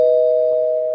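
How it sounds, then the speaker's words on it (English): A single bright bell ding used as a spoiler-alert sound effect rings out loud and sustained, a clean tone slowly fading with nothing else around it. "Spoiler bell. Spoiler bell."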